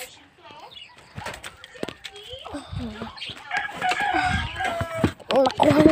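A rooster crows close by in a rural Filipino yard amid clucking chickens and a flutter of wings, with people talking loudly throughout.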